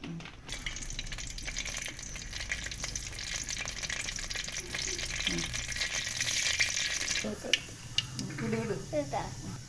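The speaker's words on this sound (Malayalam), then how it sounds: "നമ്മൾ ഇന്ന് കടു വറുക്കാൻ പോകുന്നു" Mustard seeds fry in hot oil for a tempering, a continuous crackling sizzle with scattered pops, joined near the end by clinks and stirring scrapes, with someone talking over it.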